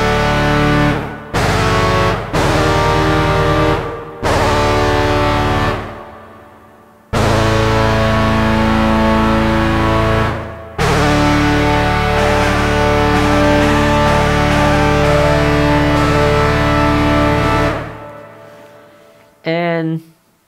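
An Arturia PolyBrute synthesizer plays a modulated patch whose pitch is being modulated. Loud, sustained chords are cut by stuttering gaps and bends, and the sound fades into a brief warbling tail near the end. No voices are heard.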